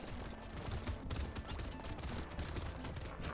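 Rapid weapon fire in the arena shooter game Brotato: a continuous, dense stream of quick overlapping shots and hits, steady and fairly loud throughout, with no voices.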